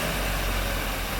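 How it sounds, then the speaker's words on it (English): A 1990 Mercedes-Benz W124 300E with an M103 inline-six idles just after starting, a close, steady low engine rumble that hunts slightly from a lean fuel setting, with no talking. "But the engine is alive."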